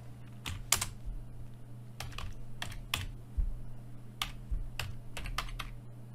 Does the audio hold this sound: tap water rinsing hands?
no